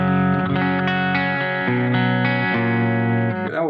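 Guitar chords ring out through the solid state clean preset on a 1980s ADA MP-1 preamp, a steady, full, sustained tone with note changes and a short dip near the end, close and loud without voices.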